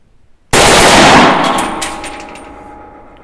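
A StG 44 Sturmgewehr rifle fires a short full-auto burst, a sudden loud blast that rings out and decays over a few seconds with faint metallic clinks. No voices are heard.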